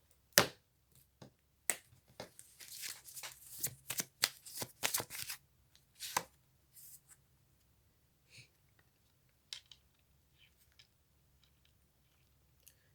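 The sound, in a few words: shuffling oracle cards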